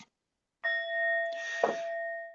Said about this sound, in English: I send my heart along with the sound of this bell.